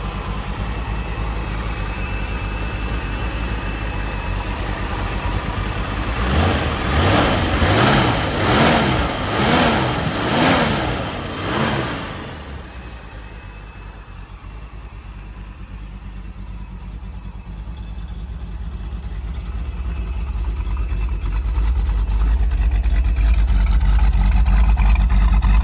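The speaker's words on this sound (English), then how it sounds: "Engine's nice and quiet." A 1968 Shelby GT 350 convertible with factory exhaust, its engine idling steadily as a low, constant rumble, with a louder patch of rhythmic engine pulsing in the middle before settling back to a quiet idle.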